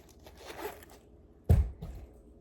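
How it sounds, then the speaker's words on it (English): Paper money crumpled and tossed into a container, a soft crinkling rustle followed by a sharp crunching impact and a brief second rustle, close and alone. "If I crumple it up and throw it in here"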